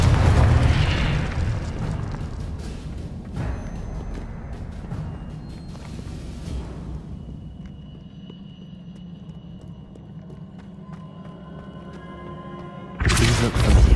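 Confringo spell explosions in Hogwarts Legacy, booming blasts that rumble and fade, then a sudden loud burst at the end, with no voices.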